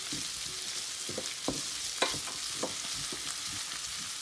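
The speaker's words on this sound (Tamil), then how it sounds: "போட்டுட்டு லேசாக வதக்கி போட்டு" Chillies and garlic sizzle steadily in a hot pan, with occasional scraping stirs and small pops over the constant frying hiss.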